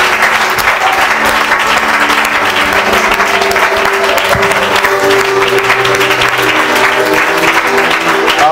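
A church congregation applauding loudly, sustained dense clapping from many hands that fills the room evenly throughout, with faint voices and cheers mixed in.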